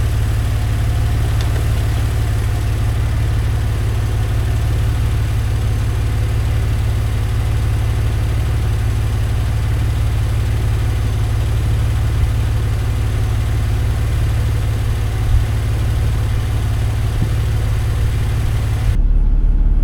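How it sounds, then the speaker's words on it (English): A Mercedes SL car engine idles steadily up close after a water pump replacement, a loud, even low rumble that holds for the whole stretch with no talking. "now I've got the engine started"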